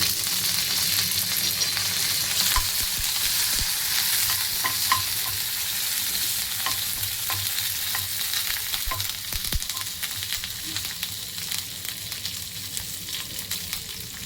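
Dry chillies and mustard seeds sizzle in hot oil for a curd curry: a loud, continuous hiss broken by scattered pops and light stirring clicks.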